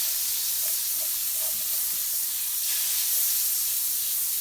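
Butter melts in a frying pan with a continuous soft sizzle and hiss, close and steady throughout, with no voices.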